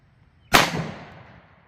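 A 1911 pistol with a 5-inch barrel fires one .357 Sig round, an Underwood 90-grain Xtreme Defender, into ballistic gel: one sharp, loud crack followed by a short decaying echo, with no talk over it.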